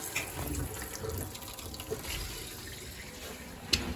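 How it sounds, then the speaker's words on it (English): Water runs steadily from an opened faucet in a vintage camper with a soft, continuous splashing rush, close by, with faint clinks now and then and no voices. "now we're gonna check if we open up the faucet"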